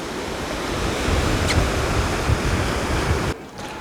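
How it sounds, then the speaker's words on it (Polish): Strong wind roars across the microphone on a Baltic Sea pier in winter at Kołobrzeg while breaking whitecap waves surge steadily below. The sound is loud and continuous and drops off abruptly near the end. "Ale wieje paskudnie. Takie fale grzywacze się robią."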